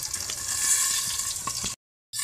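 Fish fries in hot oil in a covered pan, giving a loud, dense, continuous sizzle with scattered pops and crackles that cuts off abruptly into silence before resuming.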